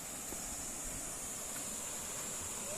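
A stream at Dara Falls in Barangay Jalung, Porac, Pampanga rushes with a steady, even wash of water, constant and moderately distant, with no voices.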